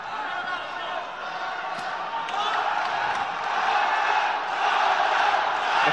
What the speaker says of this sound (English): The crowd instantly getting behind Marат